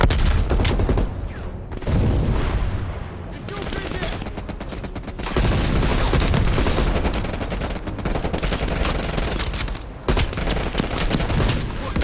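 Anti-aircraft gun fire in Call of Duty Cold War: loud, sustained rapid firing runs almost without a break, with short pauses near two, five and ten seconds.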